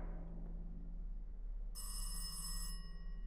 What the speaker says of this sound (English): I'm not answering that phone.